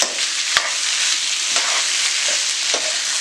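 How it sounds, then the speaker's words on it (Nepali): Boiled potatoes and bamboo shoots fry in a pan with a steady, bright sizzle, close and continuous, broken by a few sharp clicks as they are stirred. "यसलाई मजाले एकछिन फ्राई हुन दिने"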